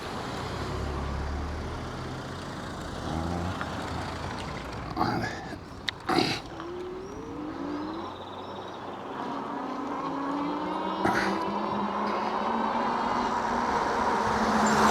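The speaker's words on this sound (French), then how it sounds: "Ah, une voiture." A car passes on a rural French track, its broad engine and tyre rumble swelling and fading against steady wind and outdoor noise, with a few sharp knocks and a brief voice partway through.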